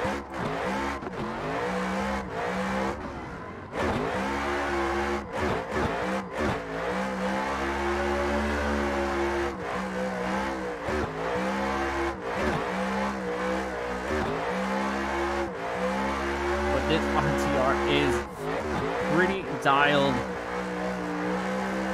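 A race car laps the Daytona Road Course in a sim racing game played on a wheel, its engine droning and rising through repeated gear changes with dips for braking, under occasional talk.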